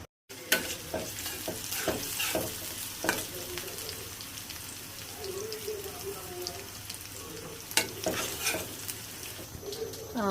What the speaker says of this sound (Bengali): আমি যে পেঁয়াজ রসুন এগুলো ভেজে নিয়েছিলাম, এটা দিয়ে দিয়েছি এটার মধ্যে বাগার দেওয়ার জন্য